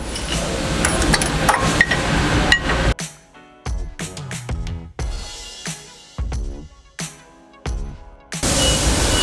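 Under-hitch bolts on a John Deere 4066R compact tractor are tightened with a wrench, giving a run of short metallic clicks and ratcheting bursts separated by brief pauses, close up.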